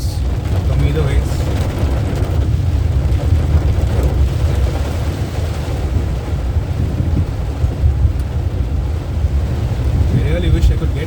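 Heavy rain pours onto a Tata Nano AMT car driving through Chennai, a loud, continuous rumbling wash of drumming water and road noise with no break across the whole stretch.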